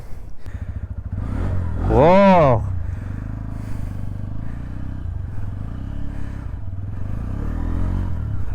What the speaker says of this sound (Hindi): एग्जॉस्ट सुनते, एग्जॉस्ट कैसा है इसका। ठीक है, चलो गाड़ी को स्टार्ट करते हैं।